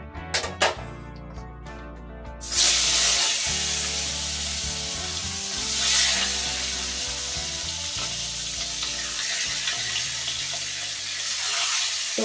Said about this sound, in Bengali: এবার আমি তেলের মধ্যে এক এক করে মাছগুলিকে কিন্তু